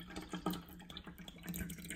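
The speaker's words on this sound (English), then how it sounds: "Let's pour some water in." Waiwera Artesian still water poured from the bottle into a small cup, a soft continuous trickle and splash heard up close at low volume.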